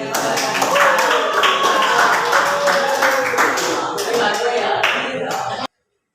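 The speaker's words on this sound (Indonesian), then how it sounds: "Mari kita berikan aplaus untuk" A classroom audience applauds the presenting student group during a teacher-training practice session, a dense, steady patter of many hands clapping close by for about five and a half seconds before stopping abruptly.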